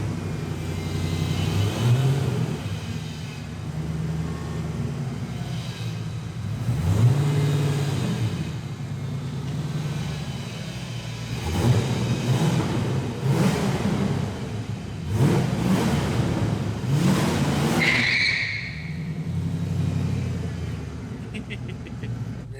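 A Ford Mustang GT engine revs while driving, a mid-pitched rumble rising and falling in several throttle surges over a steady drone of road noise, heard from inside the car.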